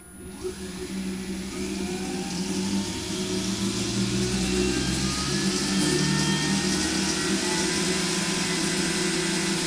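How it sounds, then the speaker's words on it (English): Taig CNC mill spindle motor running steadily at 10,000 RPM, a loud continuous whirring hum with a slight rise in pitch early on, close and alone. "adjust the motor, the spindle speed, to"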